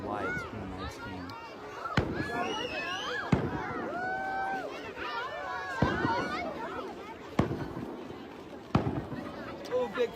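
Fireworks bursting over a ski area on New Year's night, several sharp booms spaced a second or two apart over crackle and whistles, heard amid crowd chatter and talking.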